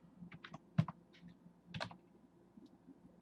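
Someone types code on a computer keyboard. The keystrokes are close and sparse, in irregular clusters with a few sharper clicks.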